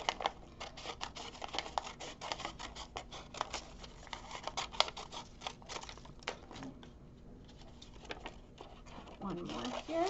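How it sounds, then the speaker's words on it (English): Scissors snip through folded craft paper cut into rectangles for children's fairy wings, a run of close, crisp cuts and paper rustles with a voice talking over them. "you'll use that line that you created when you folded it to cut in half again"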